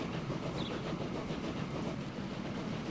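A train running in the Transport Fever simulation game, a steady rolling rumble with rhythmic clickety-clack of wheels over rail joints, continuous and fairly close, no speech.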